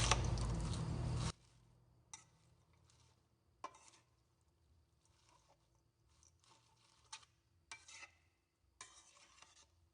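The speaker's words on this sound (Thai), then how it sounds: "คลุกเคล้าส่วนผสมให้เข้ากันค่ะ" Sunflower sprouts, minced pork and shrimp are tossed together as a salad, giving scattered soft stirring and clinking sounds in short bursts, quiet and close, after a loud opening rush.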